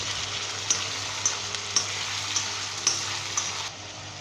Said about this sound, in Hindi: चिकन जो हमारा 2 से 3 मिनट में अच्छे तरह से फ्राई कर लिए अदरक लहसुन के पेस्ट के अंदर